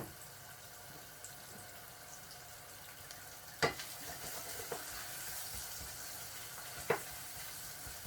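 Garlic cooks in a pan of oil for onion fried rice, a soft continuous sizzle with a couple of sharper clinks and spatters rising above it.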